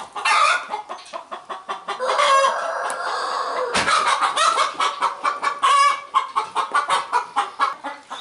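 Chickens cluck steadily near a masonry job where a door frame is being set, with a rooster crowing loudly through the middle; the calls come in close, repeated bursts with no talking.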